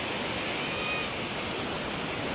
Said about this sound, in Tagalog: Naku, nalakas na pong alon.